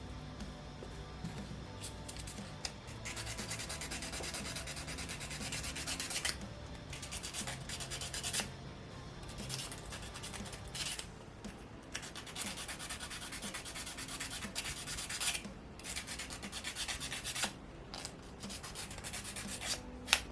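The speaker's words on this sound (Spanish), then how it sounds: "Y también podemos lijar un poco" Close, quiet sanding of small plastic Allosaurus model kit pieces: continuous gritty rubbing strokes with brief pauses, no talking.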